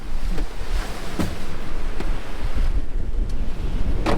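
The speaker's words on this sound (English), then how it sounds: "Oh, it's windy." Strong wind on the Cobourg Peninsula, Garig National Park, roars and buffets across the microphone nonstop, with a broad rumbling rush and occasional gusty thumps, loud and close.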